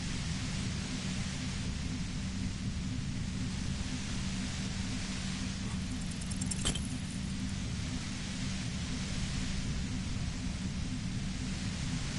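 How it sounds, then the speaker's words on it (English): Violet-white noise from the video game Disco Elysium: a steady, hissing static hum with a low droning undertone, constant and overwhelming, with one brief sharp crackle partway through. "The violet-white noise becomes even more overwhelming."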